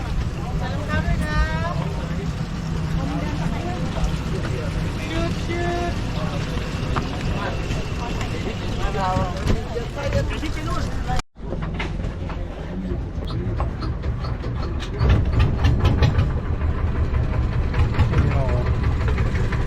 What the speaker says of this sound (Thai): นั่งเรือหางยาว